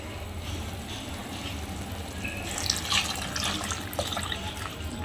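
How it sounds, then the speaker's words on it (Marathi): Steady water pouring and splashing into a pot, a continuous close rushing sound that grows slightly louder partway through. "आता आपण त्यामध्ये पाणी टाकून घेऊया"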